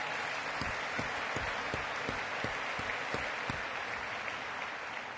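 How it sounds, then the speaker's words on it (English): An audience at an education conference session claps in a sustained wash, with a few sharper, evenly spaced claps standing out near the front before the sound tapers slightly at the end. "can we have a huge round of applause for Dalton Sherman, an extraordinary young man"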